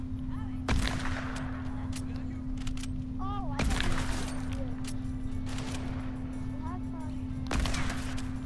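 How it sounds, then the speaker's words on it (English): Sharp gunshot bursts from a Fortnite match crack out at irregular moments, loud and close, over a steady electronic hum and game sounds. "I'm shooting at them."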